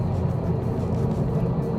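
Steady low engine drone of a 2015 Subaru WRX STI held in fifth gear down a racetrack straight, continuous and even, heard from inside with no talking.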